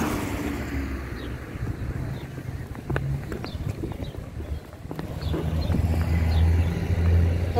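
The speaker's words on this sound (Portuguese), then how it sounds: "Ali, ó, vem vindo um carro." A car approaching on a street in Cambé, heard by a pedestrian on foot amid wind buffeting. A low engine rumble swells noticeably louder toward the end with no one talking.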